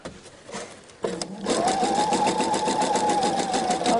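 Overlock sewing machine stitching a tiered skirt, starting after a second of quieter handling and then running steadily at a fast even whir, close and alone.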